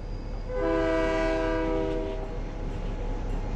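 A video-game train sounds a sustained multi-tone horn blast over a steady low rumble of the passing train, the horn fading after a couple of seconds while the rolling noise continues.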